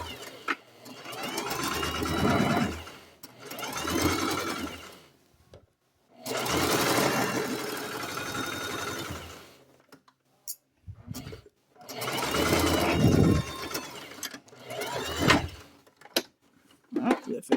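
A sewing machine runs in long bursts stitching a 5/8-inch seam on a cargo mini skirt, steady whirring runs broken by short pauses and clicks, close and fairly loud.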